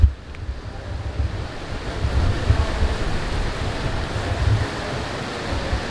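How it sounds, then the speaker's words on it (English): Wind gusts blow at the seaside at Centro Atlantico, Puerto del Carmen, Lanzarote, a continuous low rumbling buffet against the microphone, swelling and easing with a broad hiss of surf-like noise and no voices. "it's a little bit windy at the moment"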